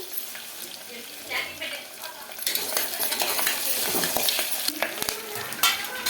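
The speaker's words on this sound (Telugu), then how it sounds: "మనకు ఆనియన్ కొంచెం ఆలు అయితే మగ్గాలండి బాగా ఫ్రై కావాలి కొద్దిగా కరివేపాకు" Onion and potato fry with curry leaves in a pan, first a moderate sizzle, then a louder, denser crackle with stirring scrapes midway through, as a voice talks intermittently over it.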